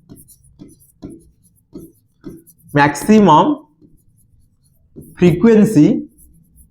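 Pen or chalk strokes on a board during a maths lesson on grouped data: a run of short, light taps and scrapes, then a voice speaking over and between further writing.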